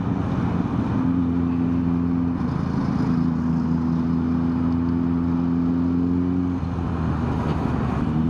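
A Kawasaki Z900 motorcycle with a loud aftermarket exhaust drones steadily while riding. Its low engine hum holds constant with a sustained tonal note that shifts slightly partway through, and no talk is heard.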